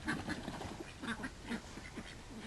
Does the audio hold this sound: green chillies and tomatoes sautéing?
no